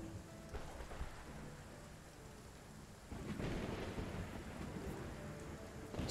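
Rain pours and thunder rumbles through a continuous storm in the strategy game Stronghold: Warlords, a dense, steady downpour that swells louder about halfway through with no talking.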